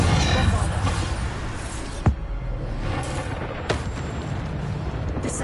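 Bombarda-style blasting spells go off in Hogwarts Legacy: two sharp booming explosions a moment apart ring out over a dense rumbling battle backdrop.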